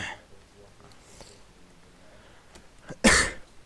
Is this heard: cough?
yes